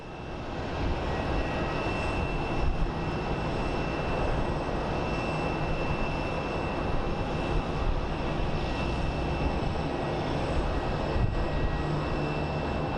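An MD-11 airliner comes in to land at Phoenix Sky Harbor International Airport, a steady, loud engine roar with a broad rumbling wash that holds constant throughout, no voices over it.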